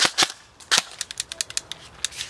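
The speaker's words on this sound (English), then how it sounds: "He's gonna work these triple taps like he's never been working before." Airsoft gun firing quick bursts of shots, sharp snappy cracks close by, two loud shots followed by a rapid run of quieter clustered pops in small groups.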